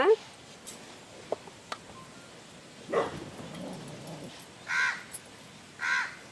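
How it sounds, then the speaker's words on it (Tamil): A few crows caw at a distance, spaced seconds apart over a quiet outdoor background with occasional small knocks. "காக்கா வருது"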